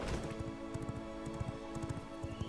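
Horse hooves clip-clop steadily in the V Rising video game as a rider heads home, a light, regular patter of footfalls over a continuous game music and ambience bed.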